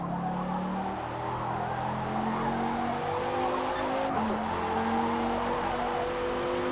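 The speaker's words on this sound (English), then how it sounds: "Okay, swerving under braking." Tires squeal and skid under hard braking in the Forza Motorsport racing game, a sustained high screech over a steady engine drone with a gear change partway through, loud and continuous throughout.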